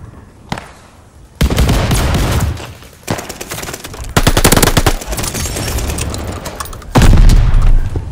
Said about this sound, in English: These shotguns are crazy.